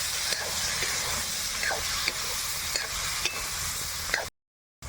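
Carrots, beans and capsicum stir-fry in butter with a steady hiss and sizzle, punctuated by repeated scraping strokes of stirring, before cutting to silence at the end.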